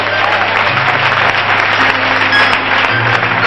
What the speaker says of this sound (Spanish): Aplauden fuerte a tu Dios, por favor.